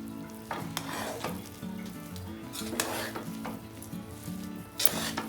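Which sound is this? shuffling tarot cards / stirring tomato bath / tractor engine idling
stirring tomato bath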